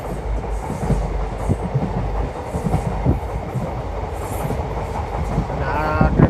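An Indian Railways passenger train runs along the rails at about 70 km/h, heard from on board as a continuous rumble with rhythmic wheel clatter and a faint squeal near the end, no talk.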